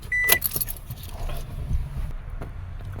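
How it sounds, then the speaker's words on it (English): On a 2005 Toyota Passo with a no-start fault, keys jangle and click in the ignition as it is switched on, with a short electronic chime, followed by low, faint cabin rustling. "So let's put the key on and see if that will remain."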